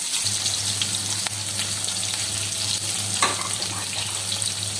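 Onions frying in hot ghee in a frying pan for a village-style potato, fenugreek and gizzard curry, a steady broad sizzle with a low electrical hum underneath and a couple of faint clicks, with no talk.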